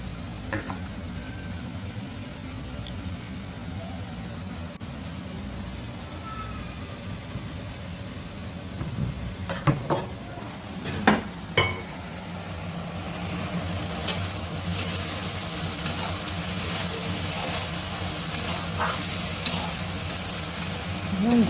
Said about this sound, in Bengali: ঝিঙ্গা আলু নাড়াচাড়া করে ভালো করে ভাজা হয়ে আসছে